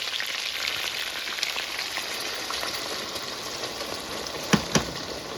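Water poured into a pan of fried curry chicken sets off a steady, close sizzle and crackle of hot oil, with two sharp pops near the end.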